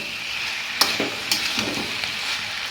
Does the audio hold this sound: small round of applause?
no